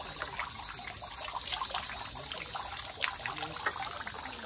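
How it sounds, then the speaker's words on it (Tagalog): Water trickles steadily into a temple hand-washing basin in Japan, a continuous soft splashing stream heard up close with no talking. "bago ka pumunta sa temple, eh, maghuhugas ka ng kamay"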